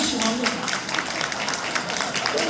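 An audience at a national pastors' seminar lecture applauds in a dense, steady clatter of many hands clapping, with voices mixed in.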